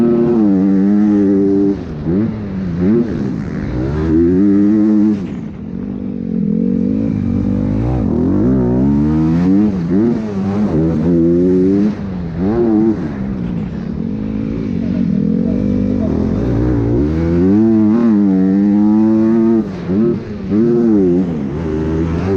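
Onboard ride on a motocross motorcycle during race laps, the engine roaring loud and close throughout, repeatedly revving up and dropping back as the rider works the throttle through the track's jumps and corners.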